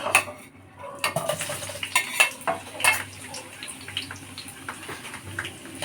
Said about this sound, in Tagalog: So, igigisa lang natin yung sibuyas muna